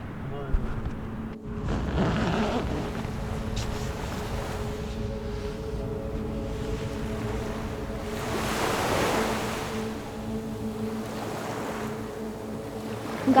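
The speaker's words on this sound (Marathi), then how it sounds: "पहिला आवाज आला तो समुद्राच्या गाजेचाच" Steady roar of ocean surf washing on a beach at Vengurla, with swelling waves and some wind buffeting the microphone, no voices.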